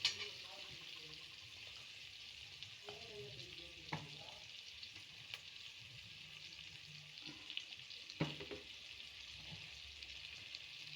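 Onion, turmeric and raw mango frying in an oil tempering for drumstick sambar, a steady close sizzle with occasional stirring clinks and scrapes, no talk.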